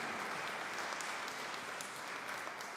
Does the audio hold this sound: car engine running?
no